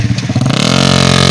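A motorcycle engine carrying sacks of rice on a farm road revs up loudly and close by, settling into a fast, steady pulsing drone after a rough opening burst.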